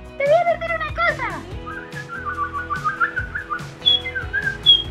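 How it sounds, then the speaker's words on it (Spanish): A person whistles a bright, wavering melody with rising and falling notes, sometimes in short chirpy bursts like birdsong, while others talk and call out in the background. "él está silbando"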